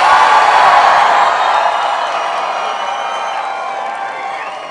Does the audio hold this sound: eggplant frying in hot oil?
no